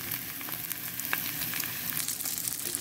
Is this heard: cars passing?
no